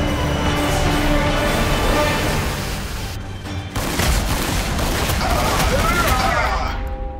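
Ork boys firing guns in the video game Warhammer 40K Sanctus Reach, a dense crackling fusillade of shots and booms under a continuous battle din, with a voice speaking partway through.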